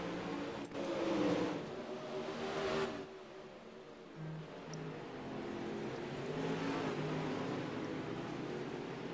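Pro late model dirt race cars roar around a short, high-speed dirt track, engine noise surging and fading as cars pass, fairly distant and unbroken by talk.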